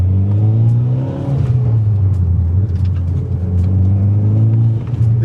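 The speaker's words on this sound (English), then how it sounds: "That's just a little bit of throttle. It's all these whooshes and bangs and pops" An old Mitsubishi Evo X, a four-wheel-drive car out in the rain, drones loudly and steadily under light throttle, with faint scattered whooshing and popping bursts through the low engine rumble.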